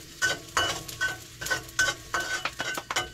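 Garlic and onion sizzle in a frying pan while a utensil stirs and scrapes them in quick, irregular strokes, close and fairly crisp, with no one talking.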